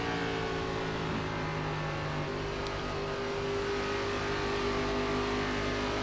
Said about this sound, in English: I did just slam the throttle down on exit